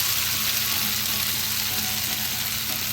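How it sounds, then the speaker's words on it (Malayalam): Fried prawns tossed into a pan of sizzling masala, giving a steady, close, broadband frying hiss that holds evenly throughout with no talk. "ഈ സമയത്ത് നമ്മൾ ഫ്രൈ ചെയ്ത് വെച്ചിരിക്കുന്ന കൊഞ്ചും കൂടെ ഇതിലേക്ക് ചേർത്ത് കൊടുക്കുക."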